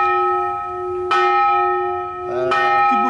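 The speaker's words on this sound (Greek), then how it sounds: "της μισής ώρας η καμπάνα που χτυπάει μία φορά" A church bell in an old town tolls a single half-hour stroke, with sustained ringing harmonics that are restruck once more partway through and decay slowly and loudly with no voices.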